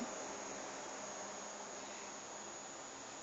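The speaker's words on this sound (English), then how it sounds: "What's up with the insects?" Insects chirp in a steady, faint, continuous drone with no breaks and no voices over it.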